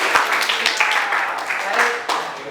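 A classroom audience at a teacher-training session gives a short burst of clapping, loud and close, with voices talking over it.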